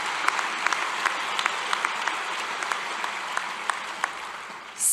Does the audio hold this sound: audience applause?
yes